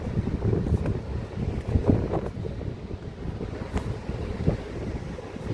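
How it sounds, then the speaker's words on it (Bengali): Strong wind on Fahaheel beach in Kuwait buffets the microphone with a steady, loud, rumbling roar and occasional sharper gusts, with no speech over it. "অনেক হাওয়া ভাই, বাতাস আছে"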